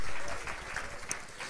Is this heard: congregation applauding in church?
yes